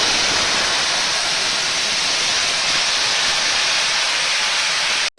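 Tomato paste hits hot oil with bay leaf and cumin, giving a loud, steady, broadband sizzle that holds evenly for about five seconds and cuts off abruptly at the end.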